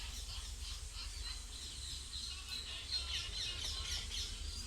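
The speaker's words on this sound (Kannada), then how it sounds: "ನಾವು ಹಿತ್ತಲಲ್ಲಿ ಹಿಡಿದಿರುವಂಥ ಗಿಳಿ ನೋಡಿ" Parrot chicks caught in a backyard call with shrill, rapid chirps and squawks that run steadily over a constant background hiss.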